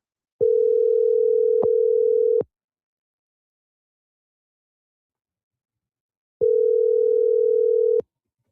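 A landline telephone gives a steady hum in two long bursts, about two seconds each, separated by a few seconds of silence, loud and clean with no voices.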